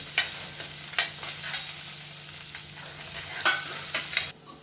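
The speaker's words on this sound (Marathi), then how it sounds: "मसाले छान परतले जात आहे" Spices and chopped tomato sautéing in a hot pan, a soft steady sizzle with repeated sharp scraping stirs of a spoon, recorded close with no talking.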